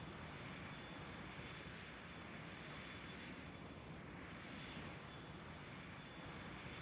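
A Scandinavian Airlines airliner takes off in a flight simulator game, its engines a steady, broadband roar that holds without a break throughout, heard at a low, even level.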